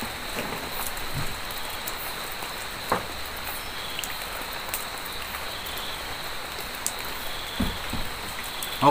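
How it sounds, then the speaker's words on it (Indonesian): Light drizzle falls steadily outdoors at a camping spot by abandoned tourist grounds, a soft continuous hiss of rain with a few scattered louder drops, no talking. "berhubung ini gerimis teman-teman."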